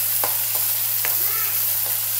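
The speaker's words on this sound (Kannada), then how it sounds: "ಸ್ವಲ್ಪ ಜಿಂಜರ್ ಗಾರ್ಲಿಕ್ ಪೇಸ್ಟ್ ಹಾಕ್ಕೊಂಡು ಚೆನ್ನಾಗಿ ಫ್ರೈ ಮಾಡಬೇಕು." Ginger garlic paste frying on a low flame, a constant close hiss with a low steady hum underneath and a few separate scraping stir strokes.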